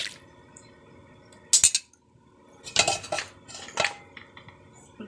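A metal spoon stirs katla fish curry with potato in a pot, giving three short bursts of clinks and scrapes against the pot over a quiet background.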